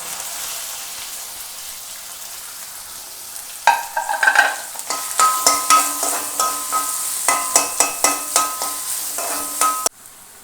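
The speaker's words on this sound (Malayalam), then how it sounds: "നമുക്ക് ഉള്ളി പൊടിയായിട്ട് അരിഞ്ഞ് അതുകൂടെ ഇട്ട് കൊടുക്കാം" Finely chopped onion sautéing in a pan for a chicken spring roll filling, a steady sizzle broken by a run of sharp scraping stirs and clinks, close and fairly loud, with no talk.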